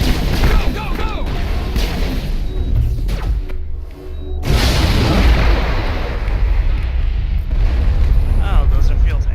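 Fuel tanks blowing up in Mass Effect, heavy booming blasts with a rumbling roar and a brief drop-out before the noise surges back, loud and close, with a voice speaking over the combat.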